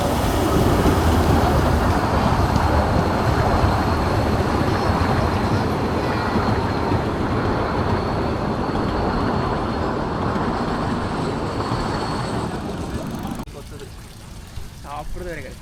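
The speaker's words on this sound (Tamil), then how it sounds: "இந்த ட்ரெயின் பாருங்கள், மறுபடியும் இந்த சைடு வருது." A small park train in Dresden's Großer Garten rumbles past with a steady clattering roar that slowly fades, leaving quieter background sounds near the end.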